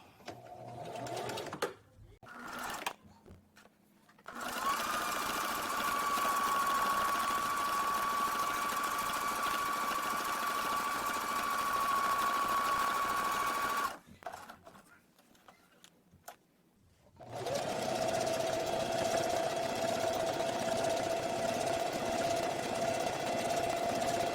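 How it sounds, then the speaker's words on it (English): Sewing machine stitching a seam on a dog bandana, long steady runs of fast mechanical whirring separated by short pauses and quiet gaps, close and clear. "we're just going to sew the V and make sure that we are back stitching as well"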